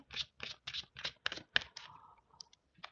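Quick rhythmic riffling bursts of cards being shuffled, about eight short flicks in a row, then a few softer taps.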